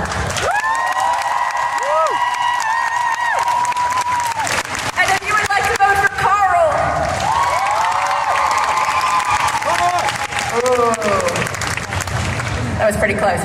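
An audience at a cosplay contest applauds and cheers to vote, sustained clapping mixed with shouts and whoops, while a presenter's voice cuts in over the crowd.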